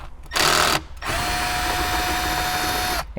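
A power driver removes an 8mm screw inside a Honda car, with a short loud whirring burst followed by a longer steady high-pitched whine, close up and alone.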